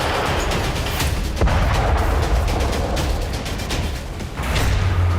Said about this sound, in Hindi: लीमन में भी यूक्रेनी फोर्स ने आर्टिलरी से हमला बोला